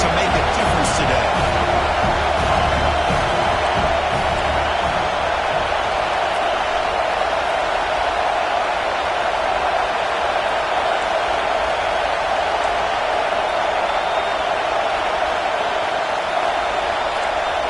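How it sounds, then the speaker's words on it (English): A home crowd at a football game roars in a dense, steady wall of cheering that holds at full volume throughout, with no breaks or lulls. "this home crowd is fired up and ready to make a difference today"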